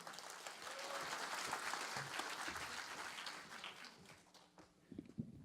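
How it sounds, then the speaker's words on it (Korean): A crowd at a Korean political policy briefing applauds the deputy director of a party think tank, sustained clapping that thins out toward the end, fairly quiet and distant. "여기까지 달려오신 우리 부원장님께 큰 박수를 부탁드리겠습니다"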